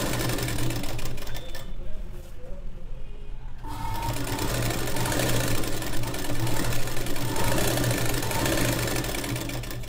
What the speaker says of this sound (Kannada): ಹಿಂಗೆ ನೀಟಾಗಿ ಫುಲ್ಲು ಬಾರ್ಡರನ್ನು ಹೊಲ್ಕೊಂಬಿಡಿ